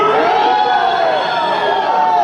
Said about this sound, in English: So everyone's booing